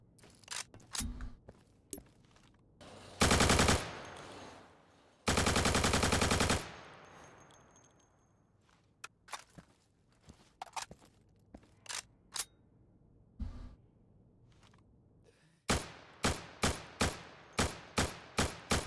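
Rifle gunfire in the game Insurgency: scattered single shots, two sustained automatic bursts, then a rapid string of evenly spaced shots at the end, crisp and close with quiet gaps between.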